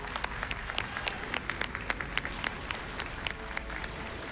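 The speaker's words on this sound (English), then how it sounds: "Let's get another round of applause for them." A crowd at a speedrunning charity marathon applauds steadily, with sharp individual claps popping out above the dense patter, fairly distant and moderately loud throughout.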